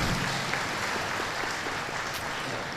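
An audience claps together for the Capuchin fathers and rector in a steady, dense burst of applause that tapers slightly toward the end.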